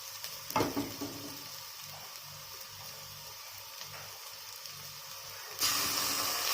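Ginger garlic paste sautés with onions and curry leaves in a pan for a stingray fish curry, making a faint, steady hiss. A metallic clink comes early, and the sizzle swells louder near the end.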